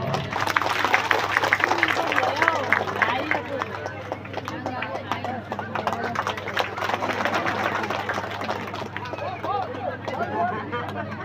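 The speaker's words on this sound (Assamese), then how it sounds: "সকলোৱে হাত চাপৰি দিব" Sustained applause from a large audience at an election campaign meeting in Assam, dense steady clapping running throughout at moderate distance, with a low hum underneath.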